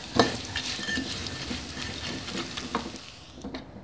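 Small anchovies (teri) fry in oil in a pan after tempeh, a steady soft sizzle with a spatula stirring and scraping against the metal, fairly quiet and close, with no talking.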